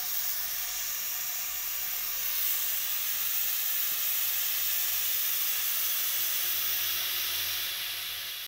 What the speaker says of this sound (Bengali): এইভাবে কিছুক্ষণ নাড়াচাড়া করে লাল লাল করে ভেজে নেব।